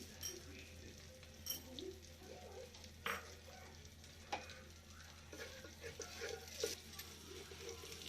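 Cumin seeds sizzle in a generous amount of hot butter for paneer butter masala, a steady soft frying hiss with occasional light stirring clicks and faint pops.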